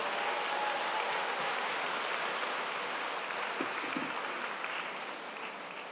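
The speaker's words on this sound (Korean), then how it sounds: "허영석 목사님을 큰 박수로 모시겠습니다" Audience applause welcoming a pastor at a joint church worship gathering, steady dense clapping from a large crowd that fills the room evenly and fades slightly at the end, with no voices.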